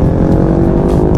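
An Italjet Dragster 200 scooter engine drones close by at a steady, buzzing pitch while riding.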